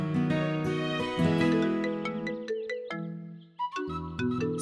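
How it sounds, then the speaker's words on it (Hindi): A mobile phone rings with a bright electronic melody, a quick run of clear ringtone notes that plays alone and close, with a brief dip before the tune resumes. "सॉरी कार्तिक, तुम्हारा फोन नहीं उठा सकती अभी।"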